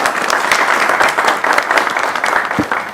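A gathering welcomes a guest with applause, loud close clapping from a moderate crowd with distinct individual claps rising and falling throughout.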